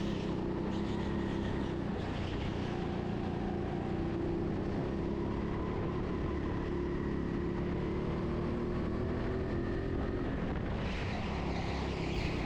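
Go-kart engine droning steadily through a fast lap on an indoor TeamSport Sheffield track, a continuous buzzing whine with rising and falling pitch throughout and no talking.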